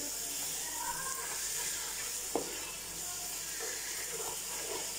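Prawn biryani gravy stirred with yogurt sautés in a pan with a soft, constant sizzle and hiss, broken by one brief clink of a utensil.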